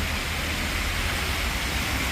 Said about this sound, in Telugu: చూడురి ఎంత జోరు వాన పడుతుందో చూడురి.